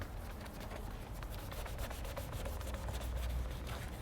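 Wet sanding of a plastic headlight lens with a pad moistened by clay lubricant gives a continuous soft rubbing, steady and close, with faint rhythmic strokes and no talking.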